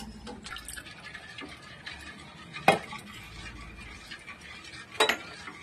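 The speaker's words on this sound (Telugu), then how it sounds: "అది అడుగంటకుండా ఉడికే వరకు అలా తిప్పుతూ ఉండాలి." A spoon stirs Karachi halwa of sugar, milk and cornflour in a pan, with soft continuous scraping and two louder clinks of utensil against the pan, close and moderately quiet, without talk.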